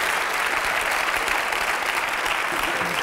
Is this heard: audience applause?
yes